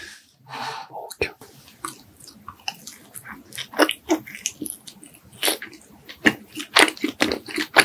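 Homemade hwajeon, a pan-fried flower rice cake, eaten close to the microphone, with a sharp bite followed by soft, sticky chewing and smacking in an uneven rhythm, plus faint breathing between mouthfuls.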